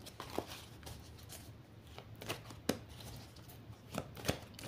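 A large deck of 81 oracle cards is cut by hand, giving faint, soft slaps and riffling card taps at irregular intervals in a quiet room.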